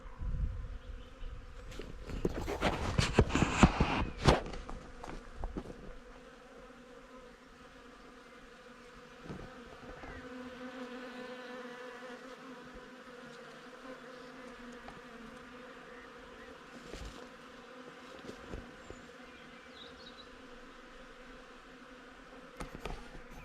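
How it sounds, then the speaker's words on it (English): Hundreds of honeybees swarming in a flowering Judas tree outdoors give a steady, faint drone throughout, after a louder burst of rustling handling noise near the start. "There must be hundreds of honeybees in there."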